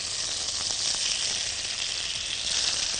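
Butter melting into hot oil in a frying pan sizzles in a steady, bright, close hiss that stays even and unbroken for about three seconds, with no voices over it.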